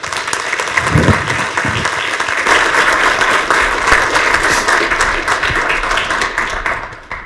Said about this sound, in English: I want to give him a round of applause to Dr. Ilya Finkelstein.